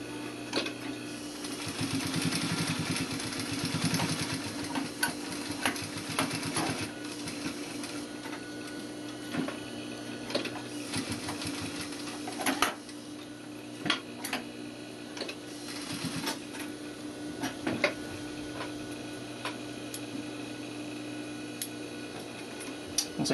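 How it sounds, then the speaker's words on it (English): A sewing machine edge stitches around a welt pocket, running in a steady fast mechanical whir with rhythmic needle ticks and a few brief pauses and clicks. "You could go ahead and then edge stitch all the way around the outside of your welt."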